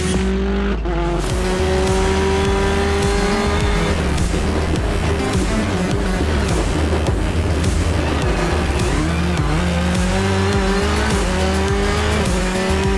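A rally driver's car on a hot qualifying lap roars loud and close with a sustained, revving engine note that rises and shifts through gears, with occasional tire squeal over continuous engine drone.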